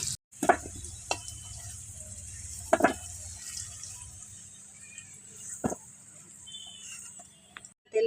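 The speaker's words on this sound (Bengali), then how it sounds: "লাল করে আলুটা ভেজে নিয়েছি এখন এবার আমি উঠিয়ে নেবো" Potatoes fried red in hot oil crackle and sizzle steadily while a spoon stirs and lifts them out, giving a few sharp clinks and scrapes over a continuous bright hiss.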